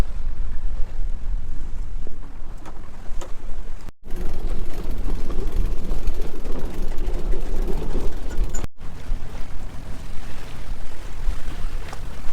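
Strong wind roars past a sailing boat as it passes through a bridge near Les Sables-d'Olonne and La Rochelle, a loud continuous buffeting rush with microphone wind noise and brief dropouts, no talking.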